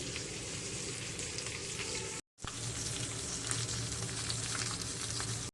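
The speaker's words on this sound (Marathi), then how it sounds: "तर आता पुन्हा यांना मी खालच्या बाजूने 3-4 मिनटं मंद आचेवर फ्राय करून घेते." Mudskipper fish frying in a pan over low heat, a dense, even sizzle that continues steadily apart from one brief dropout, with no talking.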